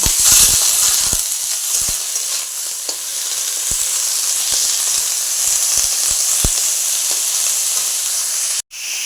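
Dried red chili, salt and turmeric fry in a pan, giving a steady loud sizzle and hiss with scattered sharp crackles and spoon taps throughout.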